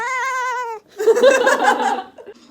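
A person imitates a cat, giving a drawn-out wavering meow followed by a burst of laughter-like vocal sounds, close and loud.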